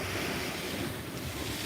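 Churning water from a cruise ship's wake, heard off Miami as a steady loud rushing wash of surf mixed with heavy wind buffeting the microphone.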